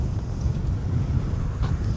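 Strong wind buffets the microphone in a constant low rumble throughout, loud and close, while walking near a bridge on a hiking trail across the Great Hungarian Plain.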